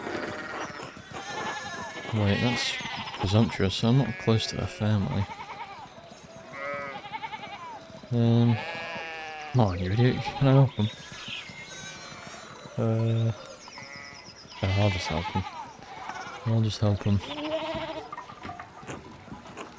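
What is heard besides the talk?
sheep bleating in the video game Pentiment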